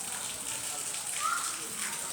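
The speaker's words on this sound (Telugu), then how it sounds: "ఐస్ గడ్డలు వర్షం గైస్." Hail mixed with heavy rain falls steadily as a dense, continuous hiss and patter, loud and unbroken throughout with no distinct individual impacts.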